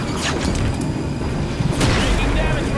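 A generator blows up in the video game Halo 5, a loud, dense rumbling blast with layered crashes that keeps going for the whole stretch, with a second heavy surge near the end.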